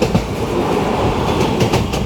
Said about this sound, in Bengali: ট্রেন আমাদের ক্রস করছে দক্ষিণেশ্বর রোড,